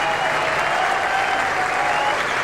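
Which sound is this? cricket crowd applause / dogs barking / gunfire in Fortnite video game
cricket crowd applause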